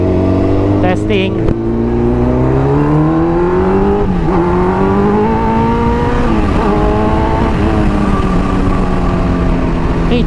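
A 2004-2005 Kawasaki Ninja ZX10R motorcycle accelerating hard nearby, its loud engine climbing in pitch through several gear changes, with a brief voice at the start.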